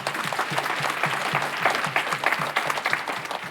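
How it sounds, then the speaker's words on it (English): Applause from an audience at a community leadership event, honouring a small group for what they built; a full, steady round of clapping with slight swells, no talk over it. "a big round of applause for you for doing that"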